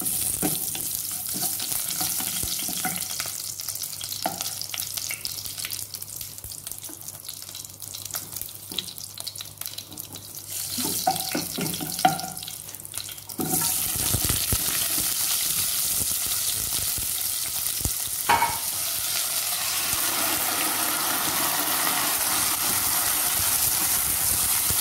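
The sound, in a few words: spices frying in hot oil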